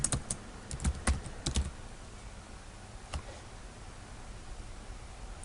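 Keys tapping on a computer keyboard while a search is typed, a quick burst of close, crisp clicks in the first two seconds, then a single stray tap and near quiet.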